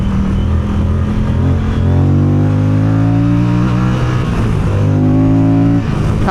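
Moto Guzzi Stelvio motorcycle engine accelerating hard uphill, a loud, close, steady drone whose pitch climbs through the gears, with a brief dip at each shift.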